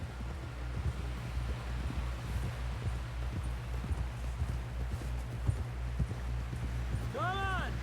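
Horse hooves clip-clopping in the Red Dead Redemption 2 video game: a steady, close, rhythmic plod over wind and rustling, with brief warbling tones near the end.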